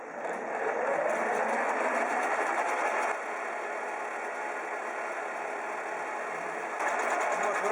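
A metalworking machine fitted with a homemade slotting head runs at speed, giving a steady, loud mechanical whir with a slight drop in level midway, then rising again, with no talking.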